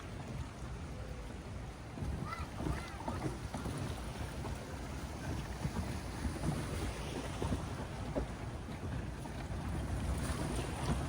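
Strong sea waves breaking on a Boracay Island beach after rain, a continuous rough wash of surf heavily buffeted by gusty wind noise on the microphone, with no talking.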